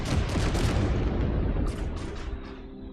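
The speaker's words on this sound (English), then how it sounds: "Dropping bombs all the while." Bombs drop and explode in the video game Trailmakers, making a loud, dense burst of overlapping booms that rumbles on, then tails off into a fading decay.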